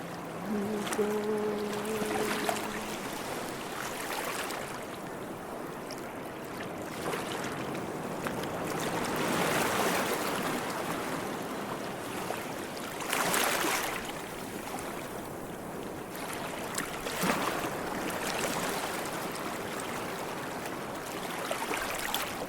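River water flows and washes in a continuous broadband rush that swells and eases in surges. A brief tonal hum sounds near the start, and no voices are heard.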